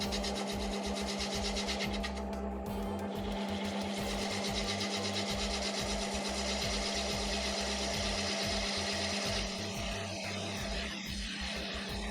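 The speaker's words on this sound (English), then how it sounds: "Now I'll be turning this at 500 RPM with my 3/8" bowl gouge" A wood lathe spins a segmented vessel at 500 RPM while a 3/8-inch bowl gouge cuts it, making a steady, loud motor hum with a continuous scraping, rasping texture throughout.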